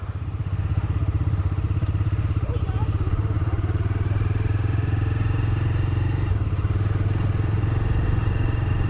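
A Bajaj Dominar 250 motorcycle engine putters steadily at close range, its rapid thumping exhaust pulse continuing throughout with a brief rise in revs.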